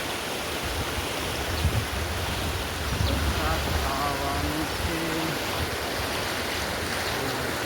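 A village stream runs full after heavy overnight rain in rural India, giving a steady, broad rushing wash of water that holds constant throughout, with a faint voice surfacing briefly in the middle.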